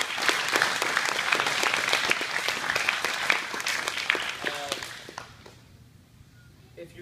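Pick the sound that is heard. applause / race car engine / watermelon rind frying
applause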